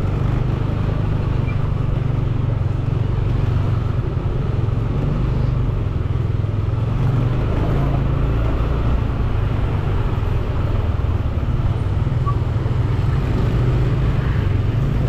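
Continuous loud vehicle rumble and road noise while driving along Benesari Street in Kuta, Bali, with light passing traffic, a steady engine drone from inside the moving vehicle.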